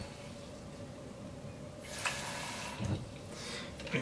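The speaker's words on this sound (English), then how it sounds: "put the water just above the little ball that's in there" Water poured from a tap into a plastic shaker bottle for a pre-workout drink, a faint gurgling trickle under low room noise, with a couple of brief splashy bursts near the end.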